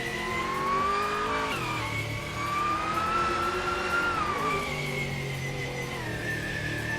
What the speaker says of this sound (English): driving a 1990 Mercedes-Benz 190 Evo 2